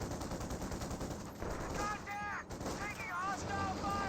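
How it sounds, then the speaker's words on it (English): Jaeger infantry rifles firing in a Company of Heroes 2 battle, a dense, continuous crackle of gunfire with the rumble of combat. Faint whistling tones rise and fall through the middle and end of the fire. "we got the Jaeger infantry taking some shots there onto the Scott"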